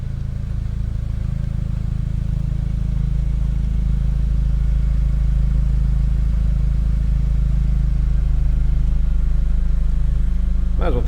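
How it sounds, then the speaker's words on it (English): A steady low engine rumble from an idling 2024 Chevrolet Colorado ZR2 pickup with a performance exhaust and a deep exhaust note, continuous and close. "Nice sounding truck too, that performance exhaust."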